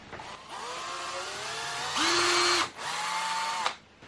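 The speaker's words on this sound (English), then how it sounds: "I'm going to pre-drill." A power drill whirs steadily, then pitches up and strains as it pre-drills into wood for a French cleat, stops briefly, and runs again before cutting off.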